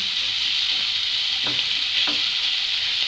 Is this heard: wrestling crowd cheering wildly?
no